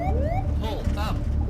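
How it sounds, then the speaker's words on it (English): Cockpit ground proximity warning alarm on Bhoja Air flight 213, low on approach and miles short of the runway: repeated rising and falling electronic tones sound over a steady low engine rumble. "Suddenly, the ground proximity warning alarm sounded."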